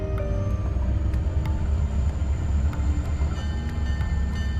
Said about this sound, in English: The train they're riding today is enormous.